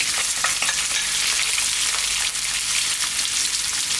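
Onions sizzle loudly and steadily in hot spiced oil for an aloo jeera potato curry, a close continuous frying hiss with occasional stirring scrapes.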